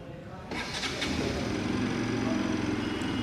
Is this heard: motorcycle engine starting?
yes